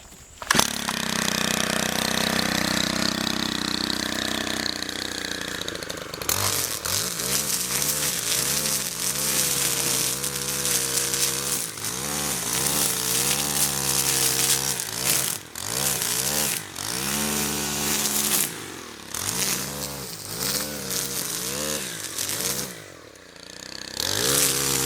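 A Stihl FB131 string trimmer runs loud and close while it cuts weeds, its engine whining at a high steady pitch and rising and falling in revs as the line bites in.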